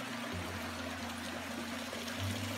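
Mountain-fed hot spring water runs steadily through channels at the Caldas de Monchique springs in Portugal, a soft continuous flow with a faint low hum underneath.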